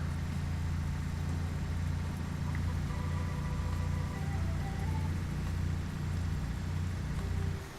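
Heavy truck engine in Euro Truck Simulator 2, hauling a 75-tonne load across Russian open spaces, a steady low droning rumble with rain-like hiss on top, continuous and close throughout.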